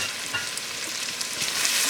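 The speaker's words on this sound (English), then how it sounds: "give that a stir" Butter sauce with onion sizzles steadily in a pan as it is stirred, a bright continuous frying hiss with faint scraping ticks throughout.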